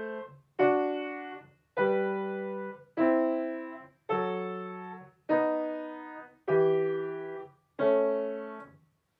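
Eight sustained notes of a single instrument play a stepwise descending Bach sequence, each tone rising sharply then fading before a brief gap, clear and close with no voice.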